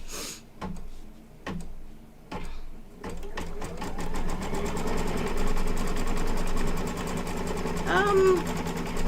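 An embroidery machine stitches a design in white thread on bright fabric, a steady fast mechanical rattle of the needle building after a few scattered taps, running close and loud with a brief squeak near the end.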